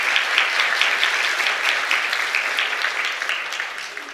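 A church congregation applauds during a Sunday service to congratulate a deacon on the birth of his fourth daughter, with sustained, dense clapping that holds steady and fades slightly toward the end.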